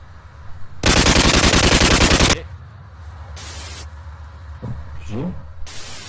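Automatic gunfire in the survival game Unturned, a loud sustained burst of rapid shots followed by shorter bursts, with a voice talking between them.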